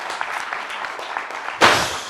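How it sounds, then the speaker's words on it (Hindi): Applause for the winning team at a talent show, a crowd's clapping that starts soft and scattered, then swells suddenly into a louder burst near the end. "एक बार जोरदार तालियां हो जाए प्रगति बैच के लिए।"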